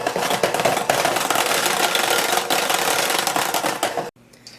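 An electric hand mixer whirs steadily through pumpkin dip made with canned pumpkin puree and vanilla in a bowl, a loud continuous motor drone with slight rattling that cuts off abruptly near the end.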